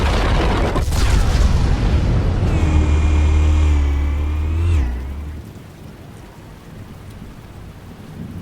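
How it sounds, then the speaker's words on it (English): A loud explosion detonates with a heavy low boom and crackling burst, a rumbling tail that swells then cuts off, leaving a softer noisy aftermath. "Explosives armed. Fire when ready."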